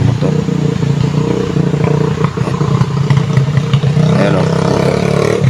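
A motorcycle passing on a mountain road, its engine droning and revving with clattering, loud and close throughout, mixed with outdoor noise.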